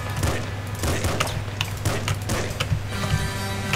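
Rapid explosions and gunfire in the Nuclear Throne video game, a dense burst of punchy booms and clicky shots in quick irregular succession over a steady game music hum.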